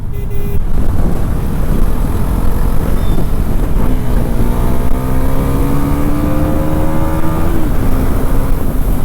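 A Bajaj Pulsar NS400Z motorcycle accelerating while being ridden, its engine droning loud and close under heavy wind rush, with a rising tone and a gear change partway through.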